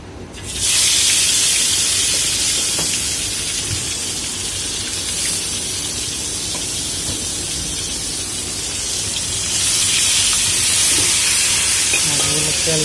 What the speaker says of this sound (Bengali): তেলটা গরম হওয়ার পরে দিবেন মাছটা, তেলটা গরম হওয়ার পরে মাছটা দিলাম